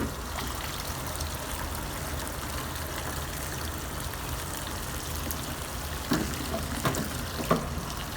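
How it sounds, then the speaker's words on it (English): Wax residue boiling off in the boil out area during a relining job, a steady hissing, bubbling wash of sound throughout with a few sharper pops toward the end, no talking. "Just go back and forth and make sure we boil off all the wax residue."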